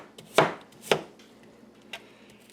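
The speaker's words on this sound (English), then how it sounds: "Just chop these up." Two sharp knife chops on a board, close and fairly loud, with a softer third a second later, as garden vegetables are cut for a rice side dish.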